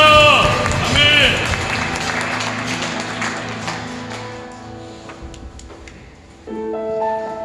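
Worship congregation clapping together in a Sunday church service, a dense rhythmic patter under sung praise and organ-like sustained tones, loud at first and easing as the music carries on.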